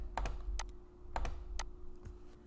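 Keys clack on a computer keyboard as a command is typed, short clustered taps in an uneven rhythm, close and crisp over a faint steady hum, with no talking.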